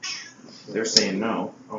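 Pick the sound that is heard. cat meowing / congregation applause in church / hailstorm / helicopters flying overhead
cat meowing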